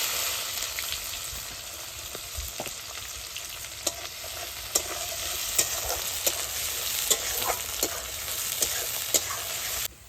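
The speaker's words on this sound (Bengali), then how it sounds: "পেঁয়াজটা ভাজা ভাজা হয়ে আসছে।" Chopped onions fry with bay leaves in mustard oil, a steady bright sizzle broken by regular scraping knocks of a spatula stirring the pan.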